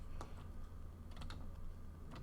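Light keyboard typing on a computer keyboard during a session of American Truck Simulator, a few quick key taps over a steady low engine drone, faint and close.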